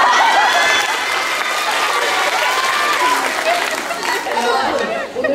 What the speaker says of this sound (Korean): 모두 힘찬 박수로 맞이해주세요